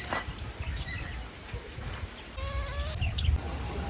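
A goat bleats once in a wavering, nasal cry amid a steady outdoor hum and faint background rustle.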